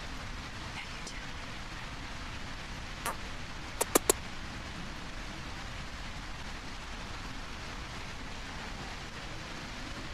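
Steady, soft rain hisses throughout in the video game A Quiet Place: The Road Ahead, with a few sharp clicks briefly cutting through partway in.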